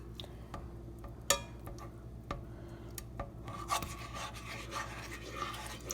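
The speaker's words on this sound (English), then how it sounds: "just stir them all together and let it sit in the butter for a little" A spoon stirring pizza sauce ingredients in melted butter in a pan, soft scraping and rubbing with scattered light taps against the pan, close and fairly quiet.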